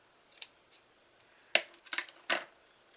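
Scissors make a few crisp snips as they trim napkin ring material for an Easter table, quiet and close, with short pauses between cuts.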